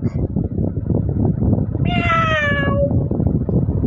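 A person imitates a cat's meow, one drawn-out wavering mewl over steady loud background noise and chatter.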